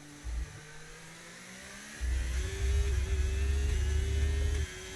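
An F1 race car in the F1 25 video game accelerates hard out of turn 11 at the Circuit of the Americas, its engine rising in pitch as a loud, close, sustained revving climb with no talk.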